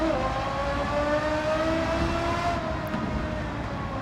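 The engine of a Porsche Carrera GT in Gran Turismo 7 holds a steady, raspy high-revving drone with a slowly gliding pitch. It is loud and continuous, heard from outside the car with no talking.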